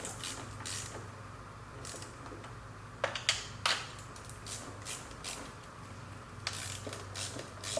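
A ratchet snugs down the valve cover nuts on a Toyota Camry engine after a head gasket job, with faint clicking in short scattered bursts over a quiet, low background.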